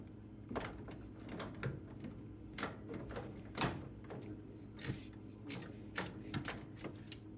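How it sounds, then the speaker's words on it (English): Ratcheting wrench hand-torquing a Phillips screw on an LG washer drain pump (4681EA2001T), heard as scattered close metallic clicks and knocks in irregular bursts over a steady low hum. "And then I just use another tool like a wrench just to manually torque it."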